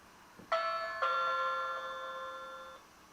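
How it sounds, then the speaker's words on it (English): An Annke Whiffle battery-powered doorbell camera chime sounds alone, two bright electronic tones struck about half a second apart, the second ringing on and slowly fading over nearly two seconds. "Well, I definitely use the doorbell."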